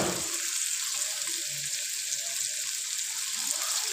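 Chopped tomatoes cook in a pan for a Mughlai chicken handi, giving a continuous, even hiss of sizzling that stays loud and steady throughout with no voices.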